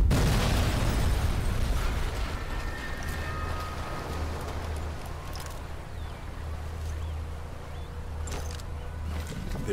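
An explosion in Sniper Elite 4, near a boat by a beach, opens with a loud roaring blast that decays into a long, heavy rumble and crackle, with a low engine-like drone beneath.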